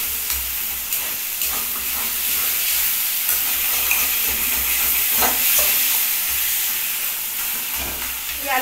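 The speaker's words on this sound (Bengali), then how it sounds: "এইভাবে উল্টিয়ে পাল্টিয়ে বেশ সুন্দর আলু চোখাটা করুন" Mashed potato (alu chokha) being stir-fried and turned in a wok, giving a steady sizzle with repeated scraping and stirring strokes throughout, close and fairly loud, with no talking.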